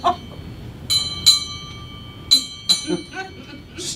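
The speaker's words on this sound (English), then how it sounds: "you ring the bell and then you announce the name of the ship arriving or departing" A ship's bell used as a stage prop rings several times in short, bright strikes at a comedy show, with pauses between rings and a voice talking briefly around them.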